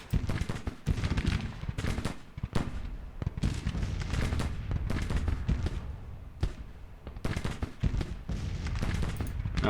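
A Civil War artillery battery firing in Grand Tactician: Civil War, irregular heavy booms and bursts of battle noise coming one after another with continuous background din.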